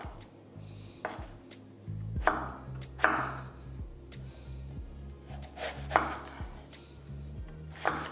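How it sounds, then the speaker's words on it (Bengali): A knife chops an eggplant into large pieces on a wooden board while making chhyachra, with about half a dozen separate crisp thuds spaced a second or two apart over quiet background music. "এরপর কেটে নিচ্ছি বেগুন।"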